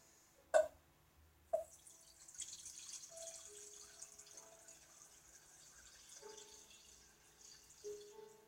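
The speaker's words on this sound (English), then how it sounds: "and just pour it in." Buttermilk from churned cream poured through a fine metal mesh strainer into a bowl, two sharp clinks at the start followed by a faint, quiet trickle of liquid.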